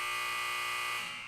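A steady electronic buzzer drones loud and unbroken for about a second, then trails off, heard alone without talking.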